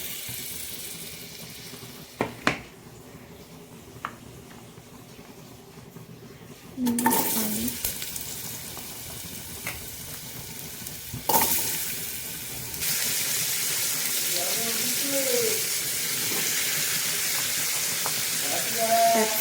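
Vegetables such as carrots and peas hit hot butter in a pan for pav bhaji, and a loud steady sizzle starts and keeps going with a few clinks and stirring scrapes. Near the end, a voice talks over the frying.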